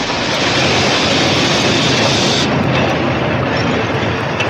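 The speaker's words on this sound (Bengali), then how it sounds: "ট্রেন একটা স্টেশনে এসে থেমেছে।" A train rolling into a station as a sound effect in a Bengali audio story, a loud dense rumble and roar that drops in brightness midway as it slows, with no voices.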